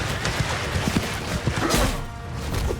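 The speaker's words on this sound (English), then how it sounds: "I realize I'm riding my horse" A horse gallops in the medieval battle game Mount & Blade II: Bannerlord, close rapid hoofbeats in an even rhythm over dense battle noise, with no talking.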